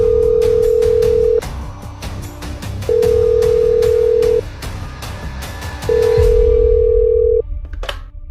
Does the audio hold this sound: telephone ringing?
yes